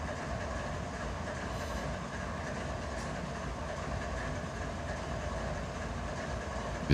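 A train coasts in neutral in the Run 8 Train Simulator III video game, giving a steady, unbroken rail rumble with faint wheel clatter throughout. No voices are heard.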